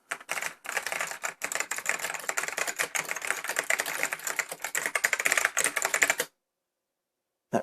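Rapid, clattering keystrokes on an AT101W Bigfoot computer keyboard, a dense, steady burst of clicky typing close up for about six seconds before stopping abruptly, with no voices.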